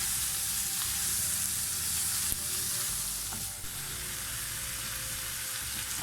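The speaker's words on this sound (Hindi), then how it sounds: "एक से 2 मिनट तक इस कीमे का कलर चेंज होने तक हम इसको भून लेंगे।" Chicken mince fries in a pan with a loud, continuous close-up sizzle, and an occasional soft stir or scrape breaks through.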